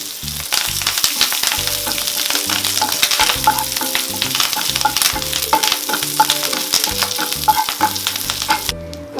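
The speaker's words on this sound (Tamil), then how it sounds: "அதே எண்ணெயில் மறுபடியும் கைப்பிடி அளவு கருவேப்பிலை ஆட் பண்ணிக்கோங்க." Curry leaves, a handful, sizzle and crackle in hot oil in the same pan used earlier for roasting chillies, with steady dense frying noise, frequent sharp pops and the clink of stirring throughout.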